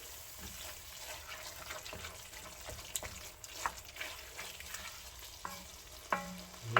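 Spaghetti sauce cooking in a pan, heard as a quiet sizzle with soft scrapes and clicks of stirring scattered throughout, without any talk.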